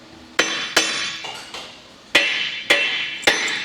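Six sharp metallic taps from a hammer on a part of a Cat D10T bulldozer's failed final drive, spaced irregularly, each ringing briefly before the next strike, close and clear with no voices.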